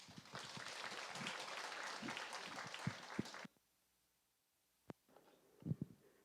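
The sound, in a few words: audience applause for the committee chairwoman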